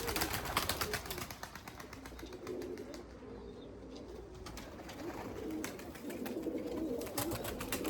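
Purebred Erzurum white pigeons in a large loft, cooing steadily with soft wing flutters and scattered bird calls throughout, close and moderately loud, with no talk.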